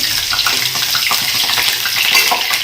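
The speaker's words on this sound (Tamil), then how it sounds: "இப்போ ஆயில் நல்லா ஹீட் ஆயிடுச்சு. நான் ஃபர்ஸ்ட் வந்து இஞ்சி தான் பொரிய விடுறேன்." Chopped ginger sizzles and crackles in hot oil, a loud, steady hiss of frying with dense popping throughout, close up and alone without voices.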